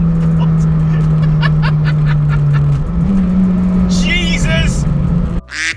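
A 440 bhp turbocharged Honda Civic EP3 Type R accelerates hard from inside the cabin, a loud steady engine drone climbing and shifting gear, with a voice and laughter near the end.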